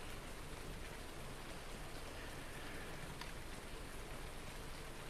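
Steady, even rain falls in Farming Simulator 19, a dense hiss of drops on surfaces that stays constant throughout with no talk over it.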